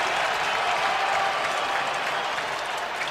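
A large stadium crowd in Baltimore at a Raiders vs Ravens NFL football game roars and applauds in a dense, steady wash of noise with no breaks, alone and without talk over it.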